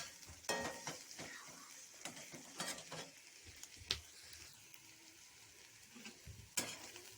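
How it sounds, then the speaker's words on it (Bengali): Chopped onions frying in a pan until light brown, for a roasted brinjal and egg bharta: a faint, steady sizzle with intermittent stirring scrapes and clinks. "এবার দিয়ে দিলাম পেঁয়াজ কুচি। এটাকে হালকা বাদামি রঙের করে নেব পেঁয়াজটাকে।"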